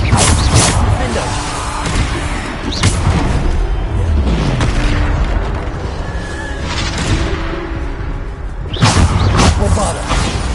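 Bombarda blasting spells in Hogwarts Legacy boom repeatedly, about five heavy crashing explosions spaced a couple of seconds apart over constant loud game ambience.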